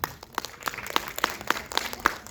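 Audience at an Indonesian film premiere screening in IMAX claps, loose irregular handclaps at moderate distance, fairly sparse rather than a dense ovation.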